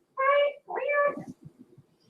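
A cat close by lets out two drawn-out, tonal meows in quick succession, followed by a few soft, low murmuring sounds before it falls quiet.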